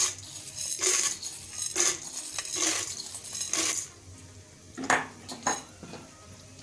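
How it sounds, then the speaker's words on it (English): Maize kernels for popcorn tumble into hot oil in a pot, several quick metallic clattering bursts against the pot with faint background hiss between them and no speech. "When the oil is hot, you'll add your maize,"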